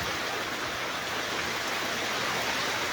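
Steady rain falls in an even, dense hiss that carries on without a break, loud and close, with no voices.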